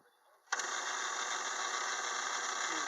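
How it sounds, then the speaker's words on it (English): A metal lathe set up for cutting gears, with its back gears engaged, switches on abruptly after a quiet moment and settles into a steady, continuous motor hum and whine close by. "I'm just going to start the lathe up here and do a pass"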